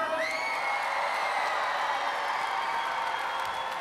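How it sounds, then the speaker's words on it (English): A dense, continuous roar of applause and cheering rises from a crowd at a float parade, steady and loud throughout with scattered whoops over the clapping. "give me one great round of applause for Omer"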